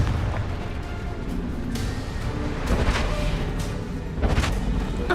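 The Confringo blasting spell in Hogwarts Legacy goes off in a series of loud booming blasts over a dense rumbling game soundscape, with sharp bursts near the middle and again near the end.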